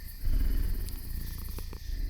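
A voice imitates a werewolf's purr: a low, continuous rumbling purr held close and steady for about two seconds, with a few faint higher clicks near the end.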